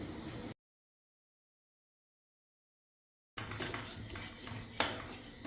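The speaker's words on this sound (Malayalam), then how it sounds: "ഇനി ലോ ഫ്ലെയിമിൽ വെച്ചിട്ട് റവ ഒന്ന് റോസ്റ്റ് ചെയ്തെടുക്കാം" Semolina (rava) roasting in ghee in a pan over a low flame, with a spoon scraping and clinking against the pan in short bursts at the start and the end, and a silent gap in between.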